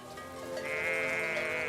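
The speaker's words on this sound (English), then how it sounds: "Christian has found the missing sheep." A sheep bleats in a mountain pasture, one drawn-out wavering call rising in strength and holding to the end, fairly close and alone over faint outdoor background.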